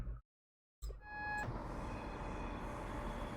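AWS warning alarm in Train Simulator Classic: a steady, sustained electronic tone sounding after a brief silence, alone over low cab rumble.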